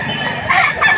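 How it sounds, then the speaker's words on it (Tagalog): An eight-month-old rooster at the Padre Garcia market in Batangas crows close by, a single short, loud call. "8 buwan ang edad ng manok na ito."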